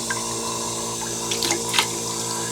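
Silver solution drains off a dipping scoop back into its container, with a thin steady trickle and a few small drips near the end, close by, over a constant low hum.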